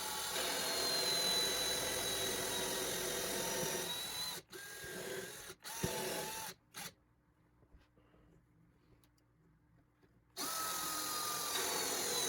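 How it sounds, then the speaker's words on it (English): A power drill mounted in a portable drill press jig bores holes square into material, whirring loudly and steadily, stopping briefly, going quiet, then resuming at full speed. "now I'm going to finish the last 2 with my handy drill press jig that's portable"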